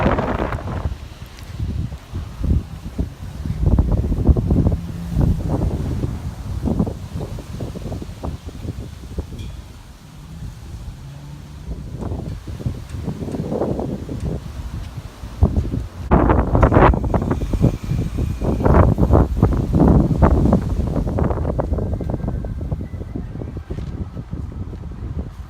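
Strong gusty wind buffets the microphone continuously, rising and falling in rough, rumbling bursts with no voices.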